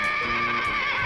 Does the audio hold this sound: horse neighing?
yes